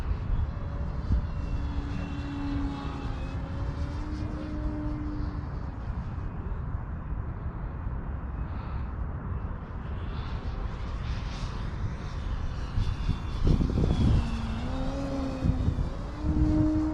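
The engine of an A.J Aircraft Slick 540 51-inch model airplane in flight, a steady high buzzing drone that rises and falls in pitch as it maneuvers, with a few short spoken calls.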